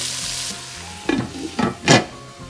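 Tofu and marinade sauté in a pan, a low sizzle broken by three distinct stirring scrapes that briefly swell louder, with no voices.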